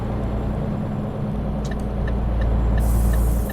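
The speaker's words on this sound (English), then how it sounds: "the engine sound was a bit too loud" A truck engine in a driving video game drones steadily and loudly at close range, growing slightly fuller toward the end, with faint high pings over the rumble and no talk.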